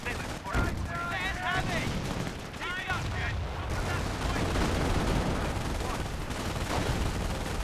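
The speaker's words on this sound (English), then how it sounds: "You're running right into the machine gun." Machine gun fire rattles on continuously in the Company of Heroes game, a dense loud barrage of gunfire and explosions mixed with shouting voices and battle noise throughout.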